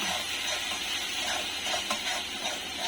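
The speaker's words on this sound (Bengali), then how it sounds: "এখন আমি মশলাটা ভালো মতো কষিয়ে নিব" Spice paste with chili and turmeric frying in oil, a dense, steady sizzle and hiss close up with a faint stir or two, no voices over it.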